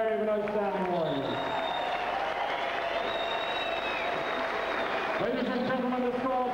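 A boxing crowd gives sustained applause and cheering for two boxers, a dense, steady roar of clapping that fills the whole stretch with background noise.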